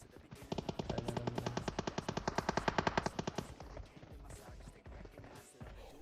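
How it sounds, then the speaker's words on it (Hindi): Rapid automatic gunfire in the mobile battle-royale game PUBG Mobile hammers out a dense, even burst for about three seconds, then gives way to scattered, fainter shots. "और गोलियां पूरी जोर शोर से चल रही है"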